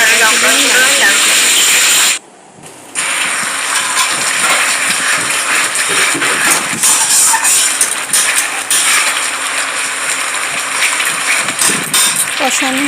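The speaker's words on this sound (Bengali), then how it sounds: "কষানো হচ্ছে, দেখতেই পাচ্ছেন।" Masala for a paneer dish sizzling and hissing steadily in a hot pan, a dense continuous fry with a brief pause, up close and loud.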